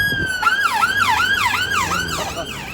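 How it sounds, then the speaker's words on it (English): An ambulance siren wails in a steady, rapid up-and-down cycle, loud and close, passing on a town street in Leigh, with traffic rumbling underneath. "there's always an ambulance on my videos"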